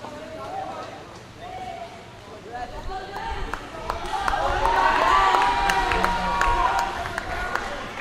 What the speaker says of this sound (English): The home crowd is cheering on for their captain, Trash.